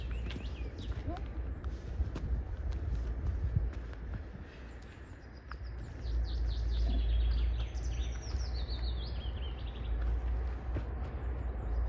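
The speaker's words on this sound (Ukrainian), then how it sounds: "хочу, щоб ви насолодилися співом пташок так само, як і ми" Birds sing outdoors in Helsinki among cherry blossoms, with high chirps and short trills scattered through a steady, rumbling park background that also carries occasional footstep-like knocks.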